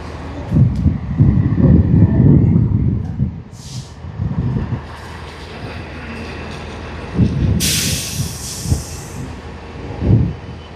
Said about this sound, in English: I can see a freight coming.